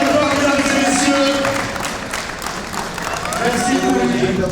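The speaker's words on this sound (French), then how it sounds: "On applaudit bien fort, mesdames et messieurs." An audience at a VIC Tour 2013 event in Toulon applauds loudly and steadily, the clapping easing slightly midway before swelling again, with crowd noise mixed in.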